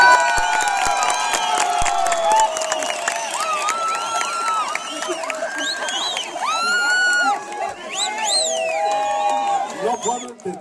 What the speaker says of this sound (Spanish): el aplauso para el señor Miguel Sánchez.